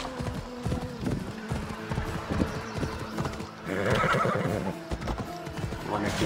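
Hooves clip-clop steadily on horseback in Assassin's Creed Odyssey, with a horse whinnying partway through over game music and ambience; someone talks over it.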